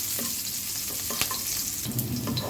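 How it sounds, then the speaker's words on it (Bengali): Onions frying in oil for a hilsa fish and water-lily curry, a dense close sizzle with occasional stirring scrapes and small clicks, steady throughout with no voices. "পেঁয়াজটা ভাজা হয়ে গেলে তুলে ফেলবো"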